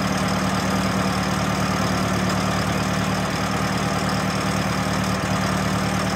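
A 1919 Templar Roadster vintage car engine idles steadily just after starting, running rich, with a low continuous rumble and dense mechanical noise up close.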